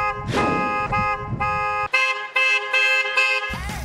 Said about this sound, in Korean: 들어오시면 빵빵 울리세요